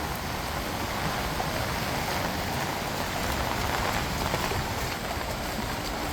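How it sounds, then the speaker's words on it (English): Heavy rain pours down in Benidorm, a dense, steady hiss of drops on hard surfaces with running water beneath, constant and close without any voices. "It's raining quite a lot less now."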